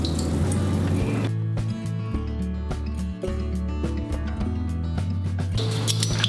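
Cold water for sushi rice pours steadily into a measuring cup, a continuous close splashing fill with faint trickles and drips, no one talking.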